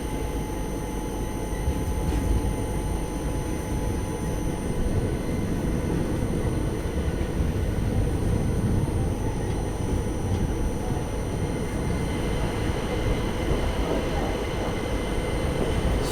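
Tirupati-Puri Express 17480 rolls slowly through a station without stopping on the Visakhapatnam-Puri stretch, heard from on board as a steady rumble and clatter of wheels with a constant hum throughout.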